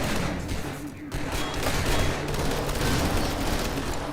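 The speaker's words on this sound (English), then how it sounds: "Now I have a machine gun." Machine gun fire from The Division 2 video game rattles in dense, continuous bursts that fill the whole stretch at close range, with no talking.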